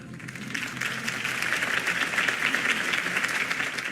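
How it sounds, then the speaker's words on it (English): A crowd claps for a campaign speech in the Batman: The Telltale Series video game, producing sustained, fairly close applause that swells slightly and stays thick throughout, with no talking. "If only Mr. Wayne, my campaign's largest backer, could have heard that applause"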